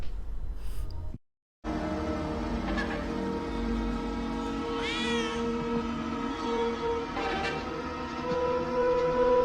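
Cat meowing in a scene from the Chucky TV show, several drawn-out, rising and falling meows over a background of soundtrack and ambience, after a brief moment of silence near the start.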